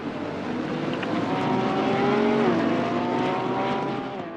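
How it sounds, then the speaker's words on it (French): A Porsche 911 race car engine in a sim racing game drones steadily, its tone rising and falling smoothly as it revs through a gear change, loud and alone. "On nous signale que la 911 numéro 117 repart avec Timo Bernhard au volant"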